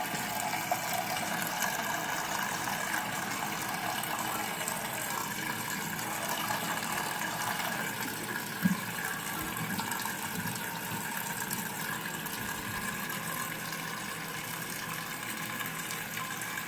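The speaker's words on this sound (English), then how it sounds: "when that fills back up, it's going to lift the little sponge thing and it's going to stop it" A hotel toilet tank at the Ramada Plaza in Atlanta refills with water, a steady close rushing hiss that runs unbroken with one brief knock partway through.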